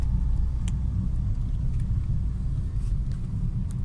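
A Geely MK interior rumbles with heavy low road noise and engine drone, occasional light rattles and knocks as it rolls over a rough, uneven road.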